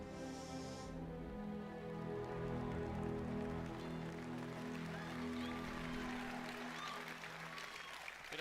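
A large audience at the Bethesda E3 2018 press conference breaks into sustained applause, a dense wash of clapping swelling and fading, with music-like tones underneath and some voices mixed in.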